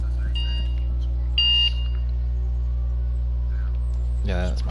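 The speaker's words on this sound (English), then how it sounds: "that's my alarm" A short electronic alarm beeps once over a steady low mains hum in a quiet room, with a faint voice near the end.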